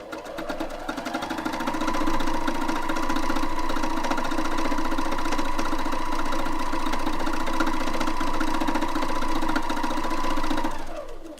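A needle felting machine punches wool with a steady, rapid mechanical rattle and hum that builds up over the first couple of seconds, then runs evenly and loudly before winding down at the end.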